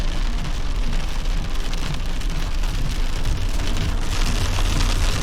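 Heavy rain drums steadily and loudly on a car on a drive near Katra, Jammu, a dense unbroken roar from start to end with no voices.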